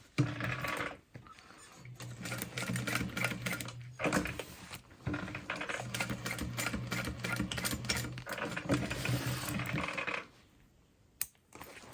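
A sewing machine stitches through a fabric bag in rapid, steady bursts of mechanical clatter, pausing briefly between runs, then stopping near the end; no talking.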